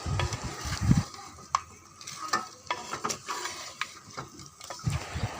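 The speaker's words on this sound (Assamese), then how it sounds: "এতিয়া মাংসবোৰ মছলাৰ লগত মিহলাই দি লৈছোঁ আৰু লগতে আলুবোৰ দি ল'ম। এতিয়া অলপ সময় লৰাই ল'ম।" A spoon scrapes and knocks around a pot of mutton and potatoes in uneven strokes over a faint sizzle, with a couple of heavier thumps.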